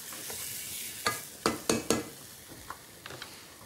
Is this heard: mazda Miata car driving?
no